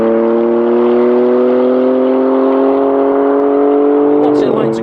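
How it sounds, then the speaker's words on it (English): A BMW M4 CS with its M engine holding a loud, steady tone that rises gradually over several seconds, then drops away into a brief burst near the end. "the M4 CS gets a proper M engine, so it sounds like an M car"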